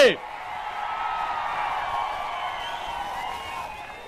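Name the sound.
crowd clapping and cheering at a political rally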